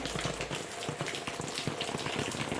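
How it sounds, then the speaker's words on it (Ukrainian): Heavy rain pours outdoors in a steady, dense hiss with crackling patter, constant and close throughout. "цілісінький день періщі дощ сьогодні"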